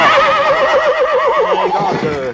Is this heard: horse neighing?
yes